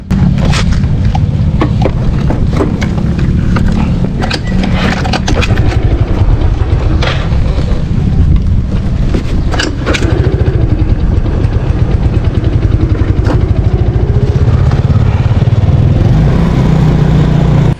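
A Yamaha Mio Sporty scooter engine runs loud and close for the whole stretch, its idle rough and uneven from a sputtering carburetor, with irregular chugging pulses and occasional popping bursts.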